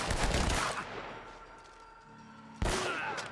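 Gunfire from a gun in Uncharted: Drake's Fortune, a loud burst of shots at the start, a lull with a low ringing tone, then another sharp shot close by.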